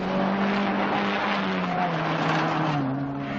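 A Skoda rally car at the 1978 Danube Rally, its engine droning loudly and continuously while the pitch slowly rises and falls, with faint commentary mixed underneath.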